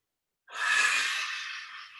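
A single long, breathy exhalation during qigong practice, starting suddenly after a short silence and trailing off slowly, close and clear with no talking.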